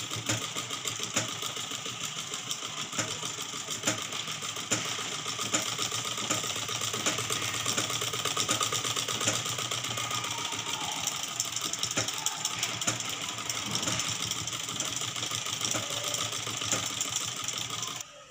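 A sewing machine stitches along the neckline of a boat neck blouse, running in a fast, steady mechanical whir with rapid needle ticking that continues unbroken and close for the whole stretch.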